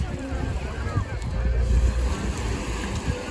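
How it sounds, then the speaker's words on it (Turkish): Steady wind buffeting the microphone with a low rumble, seaside surf and open-air noise behind it, continuous throughout. "Rüzgar var ya, evet."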